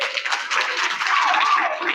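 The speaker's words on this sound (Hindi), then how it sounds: "जोरदार तालियां बजाओ।" Loud, steady applause from a school crowd at a New Year celebration, dense clapping filling the whole stretch without a break.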